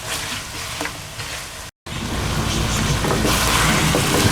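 Chicken and peas frying in a pan for a shahi chicken matar curry, a steady close sizzle with scraping stir strokes, unbroken apart from a very short cut partway through.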